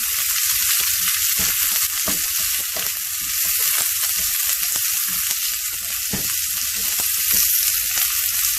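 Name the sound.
onions frying in ghee, stirred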